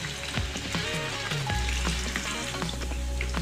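Potato pieces frying in hot oil in a home kitchen, a steady close sizzle with crackles and occasional stirring clatter throughout, no talking.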